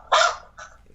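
A dog indoors lets out one sharp, fairly loud bark followed by a shorter, weaker second yelp.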